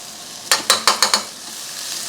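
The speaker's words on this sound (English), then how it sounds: "I want that paprika and the cumin especially to mix around in the heat and cook in the hot pan" Smoky sweet paprika, cumin, salt and black pepper hit a hot pan with five quick sharp scraping sizzles in a row, then a quiet hiss.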